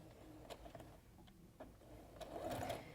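A sewing machine backstitches at the start of a seam on a fabric headband, giving soft, faint mechanical whirring with a few light ticks and a slightly louder run at the end.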